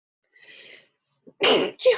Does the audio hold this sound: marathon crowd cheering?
no